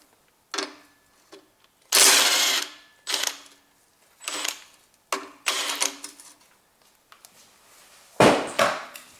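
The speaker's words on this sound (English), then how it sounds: "there is my tool, opening direction that way" A ratchet wrench works on the exhaust pipe bolts of a BMW 3 Series during engine removal, with repeated short bursts of close metallic clicking and grinding separated by brief pauses.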